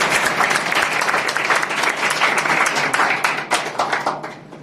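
Loud, dense applause from a seated audience at a business seminar, steady clapping for about four seconds before tapering off at the end.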